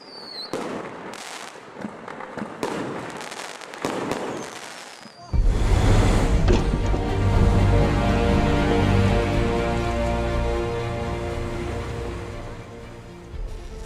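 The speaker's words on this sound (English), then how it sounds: "The fireworks display fails to calm their emotions." A fireworks display exploding, first a few scattered bangs and sharp pops with a whistle, then after about five seconds a dense, loud continuous barrage of crackling bursts and rumbling booms.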